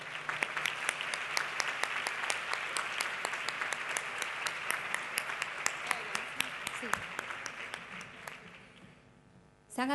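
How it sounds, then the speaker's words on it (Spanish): Sustained audience applause at an education excellence awards gala in Jerez, a dense steady wash of many hands clapping through the hall that drops off abruptly near the end. "Se han adelantado con el aplauso"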